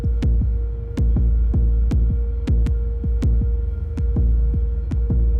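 Electronic kick drum pattern with accented hits shifting through level changes, a steady loop of punchy low thumps about twice per second over a sustained hum, loud and alone with no voices.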